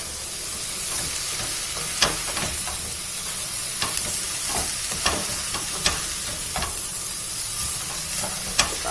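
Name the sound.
onion and bell pepper sautéing and being stirred in pan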